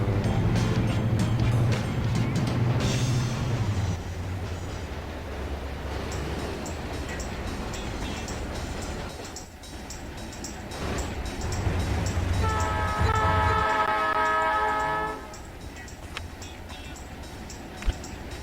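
A train runs in the railway simulation game Chris Sawyer's Locomotion, its steady rumble and rolling clatter loud throughout, with a horn-like tonal blast near the end before the sound fades out.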